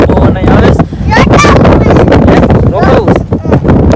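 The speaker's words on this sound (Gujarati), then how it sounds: "વરસાદ ફૂલ શરૂ થઈ ગયો, પવન અહીં આવે" Strong wind buffets the microphone at Diu beach as rain sets in, a loud continuous roar with gusts, and voices talking underneath.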